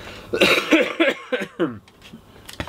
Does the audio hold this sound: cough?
yes